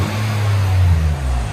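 A 2007 Nissan Altima 3.5L V6 with DC Sport mufflers and a resonator delete idles and blips nearby, a steady deep exhaust rumble that rises briefly in pitch before settling.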